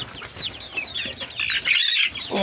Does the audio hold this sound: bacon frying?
no